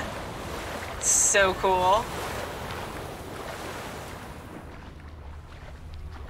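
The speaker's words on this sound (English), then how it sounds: "Look at the waves going on." Ocean waves in The Witcher 3 game world wash in a steady, soft broadband surf with faint wind, continuing throughout while someone briefly speaks over them near the start.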